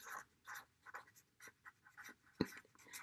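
A Sharpie marker scratches across paper in short squeaky strokes, a quick uneven rhythm of about a dozen close strokes with one sharp tap near the end, heard alone and close up.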